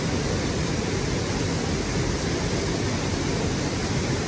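Latourell Falls waterfall, a dense, unbroken roar of falling water heard close and loud with no voices or other sounds.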